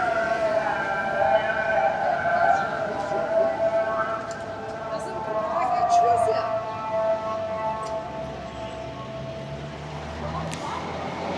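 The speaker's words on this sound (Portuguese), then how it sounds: "As mesquitas têm um alto-falante que toca essa música nos horários certos, que é o horário que eles têm que rezar" A mosque loudspeaker in Cappadocia broadcasts the call to prayer, a sustained, wavering melodic chant that carries steadily across the town for the whole stretch, with faint background murmur beneath.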